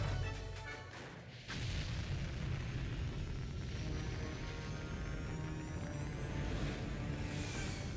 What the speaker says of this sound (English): it's almost time to blast off this rocket